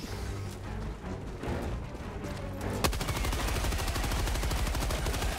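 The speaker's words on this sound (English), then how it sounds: "Scoping in with the machine gun is wild." Machine gun fire in Helldivers 2 rattles in dense, rapid bursts, with rumbling explosive noise at first, then a sharp shot at about the three-second mark that gives way to a steady, loud automatic stream of rounds.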